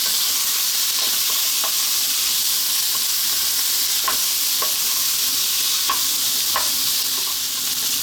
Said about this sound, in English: We're going to throw this around in the pan for like 2 minutes,